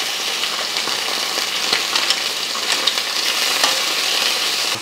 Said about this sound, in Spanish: Se va a hacer un charpeadero en la estufa.